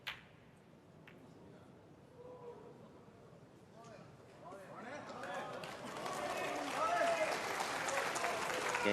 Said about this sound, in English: you could hear the applause from the crowd